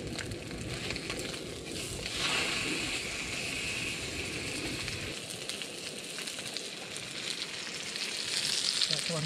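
Steak frying in butter on a Trangia 25 camping stove outdoors in the rain, a steady close sizzle and crackle that runs throughout and swells louder toward the end.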